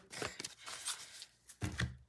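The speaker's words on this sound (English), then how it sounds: "And I need to shuffle the deck." Papery riffling and soft slaps as playing cards are shuffled by hand, in quick bursts separated by short pauses.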